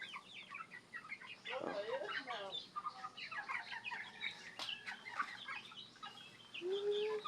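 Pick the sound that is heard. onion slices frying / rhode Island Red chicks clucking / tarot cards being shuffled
rhode Island Red chicks clucking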